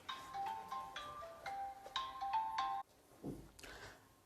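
A mobile phone ringtone plays a melodic, repeating electronic tune in a lecture room, ringing steadily for about three seconds before cutting off abruptly, followed by faint room noise.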